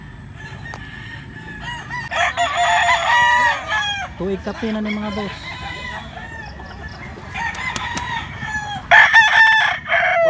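Fighting roosters crow loudly nearby, several long drawn-out calls one after another, with clucking and someone speaking in between, at a gamecock sale in Cebu.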